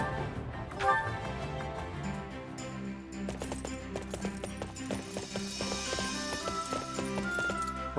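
Horses gallop in the video game Fire Emblem Warriors: Three Hopes, a steady run of hoofbeats mixed into a busy, continuous bed of game music and effects.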